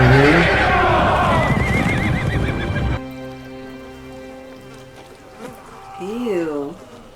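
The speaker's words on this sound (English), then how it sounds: "The horses are still nervous." Horses whinny and neigh in a tense fantasy drama scene, with loud, wavering cries over a dense, busy mix early on, then quieter scattered whinnies later as voices speak.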